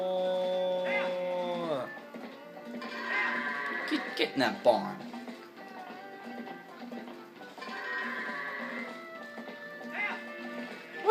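A goat bleats in Zelda Twilight Princess, a long wavering cry, then several more bleats spread across the stretch, with a voice talking over and between them.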